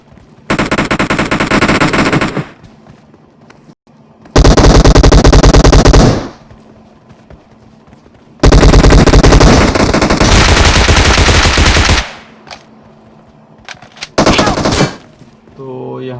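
Automatic weapons fire in long, loud sustained bursts in a battle royale game, four separate volleys separated by short quiet gaps, with no talking over them.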